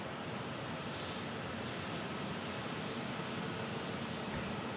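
A Southwest airliner lands on runway 25 left at Phoenix Sky Harbor, heard as a steady, distant jet roar with a broad rushing, wind-like quality.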